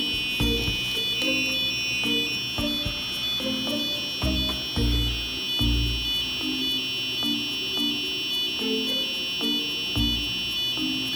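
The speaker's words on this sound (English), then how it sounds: "that's the sound, the tone that we have configured in our Arduino Uno code" A steady high-pitched electronic buzzer tone from an Arduino Uno sounds continuously, with clattering knocks and thumps scattered underneath throughout.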